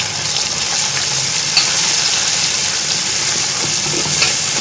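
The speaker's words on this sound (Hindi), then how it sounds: "और इस मसाले को भून लेंगे।" Masala spice paste sizzling in hot oil while being stirred, a loud continuous frying hiss with occasional scraping of the spoon, close up and without speech.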